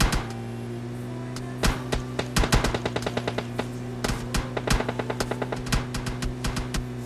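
Rapid bursts of automatic gunfire in a video game crackle in quick, uneven volleys over a steady background hum, the shots sharp and fairly close.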